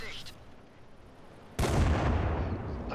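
A tank cannon fires in World of Tanks as a single sudden loud blast that rings out and decays into a lingering rumble, preceded by a quieter stretch of ambient noise.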